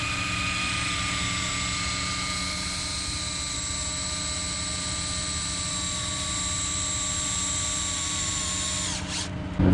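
A power drill turning a small gearbox to roll up a barn curtain on a farm whines steadily with a motor hum and harmonic tones, running continuously up close before cutting off near the end.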